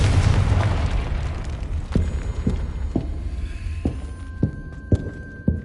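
Confringo fire spell explosions in Hogwarts Legacy, a series of sharp booming bursts spaced about a second apart over a rumbling background, with a tonal hum in the later part.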